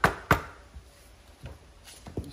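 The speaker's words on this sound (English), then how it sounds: "Just tap it up here, just hit the hammer." A hammer taps a camshaft out of an upturned Briggs & Stratton engine on a John Deere D100 lawn tractor, giving several sharp metallic knocks spaced irregularly, two strong early hits followed by lighter taps.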